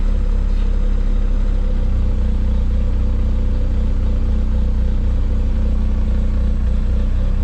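A tuned Toyota off-road vehicle's engine idling steadily after its RPM targets were adjusted, a loud, constant low rumble with faint mechanical clatter and no change in pace.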